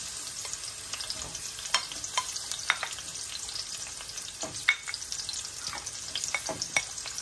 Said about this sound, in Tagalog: Gisa na po natin ang bawang at sibuyas.